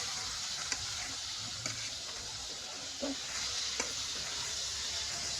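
Bitter gourd frying in a pan gives a soft, continuous sizzle and hiss with occasional faint clicks of stirring, fairly quiet and without talk.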